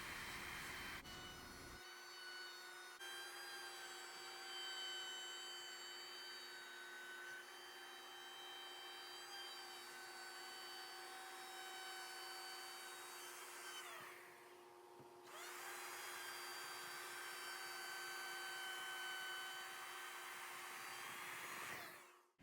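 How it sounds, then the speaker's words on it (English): Wooden dough board edges being rounded over with a router and round-over bit, a loud steady high-pitched whine running throughout with a brief dip partway through as the cut pauses and resumes. "Using the router, we use a round over bit to round the edges."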